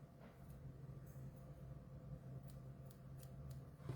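Scissors cutting fabric ribbon to shorten it for a side-split t-shirt or sweatshirt, a few faint, brief snips over a steady low background hum, with no talk.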